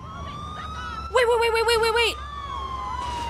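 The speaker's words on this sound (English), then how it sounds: "It's not every day you almost get run over by an ambulance." Ambulance siren in the video game GTA 4, a loud wailing electronic siren bursting in suddenly for about a second, rising and falling in pitch before cutting off, with a brief spoken word from a player beside it.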